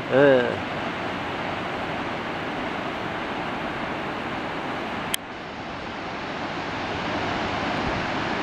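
Ocean waves roll onto the empty early-morning shore at Black's Beach, heard from high above as a broad, steady surf roar mixed with wind buffeting the microphone and a brief bump at the start.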